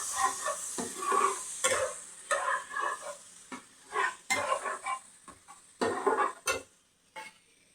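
Garlic cloves frying in a pan, with repeated stirring scrapes and clinks over a soft sizzle that comes in uneven bursts and pauses, close and moderately loud.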